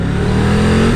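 A Triumph Tiger 1200 GT Explorer engine, close and loud, pulls upward in a short, rising rev with a steady climbing drone and no talking.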